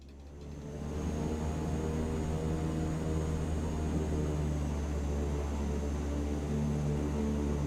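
Canadair CL-415 water bomber in Microsoft Flight Simulator, steady loud propeller engine drone with low rumble after landing, constant and close throughout, no talking.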